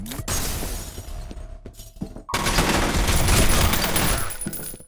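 Enemies firing at the player in the FEAR video game: sharp gunshots and a loud, sustained barrage of rapid fire with shattering crashes, close and dense, swelling then fading toward the end.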